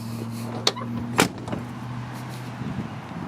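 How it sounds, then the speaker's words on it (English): A car's hood latch releases with a sharp metallic pop and clunk, followed by a second louder clack, over a steady engine idle. "We'll go ahead and pop the hood."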